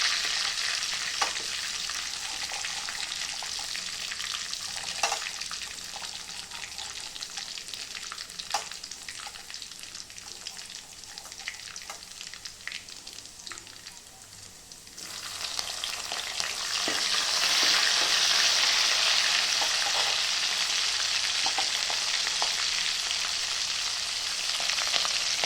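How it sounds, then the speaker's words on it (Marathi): Green chillies sizzling with garlic in hot oil in a pan, a steady broadband frying hiss throughout with occasional stirring clicks, growing louder and fuller in the second half. "हिरवी मिरची टाकून चांगली फ्राय झाली."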